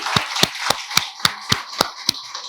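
Sharp rhythmic claps ring out in a steady beat of about eight even hits, like a group clapping together in unison at a parents' fun session with a teacher, moderately loud and without talk.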